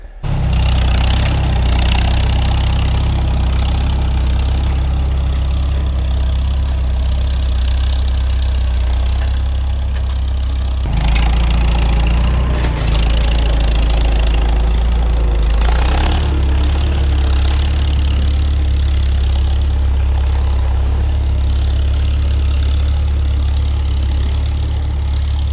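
A Farmall Super M tractor skidding logs through snowy, icy woods: a loud, steady, close engine drone with strong low rumble, briefly surging as it strains, continuous throughout with no talk.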